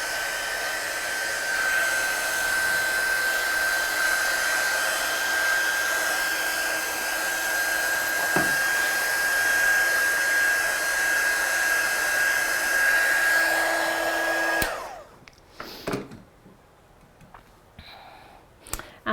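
A hair dryer blows a steady, loud whoosh for about fifteen seconds to dry stamped ink on a Christmas card. It then shuts off, leaving a few faint clicks and handling sounds.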